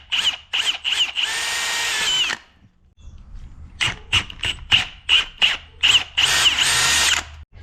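A power drill enlarges a hole in a vintage bike part to fit over an ignition switch post, whirring loudly in short on-off bursts and longer sustained runs with a brief pause midway.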